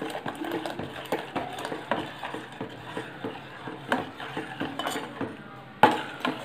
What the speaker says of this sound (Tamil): இந்த மாதிரி நல்லா கட்டிப்படாமல் கிளறிக்கிட்டே இருக்கணும்.